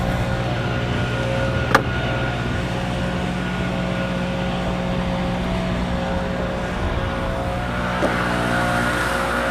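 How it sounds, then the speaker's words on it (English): A leaf blower runs steadily near a lake, a constant loud droning whine with a couple of faint clicks, heard from some distance with no voices present. "No, that's a blower. It's not a power washer."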